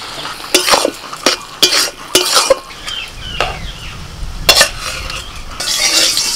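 Potatoes with poppy seed paste are stirred in a pan: repeated sharp scrapes and clinks of a utensil against metal in uneven bursts, with a soft sizzle rising near the end.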